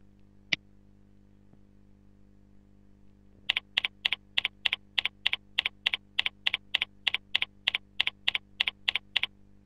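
A username typed on a computer keyboard: a lone early click, a pause, then a quick regular series of crisp, close keystrokes in a quiet room.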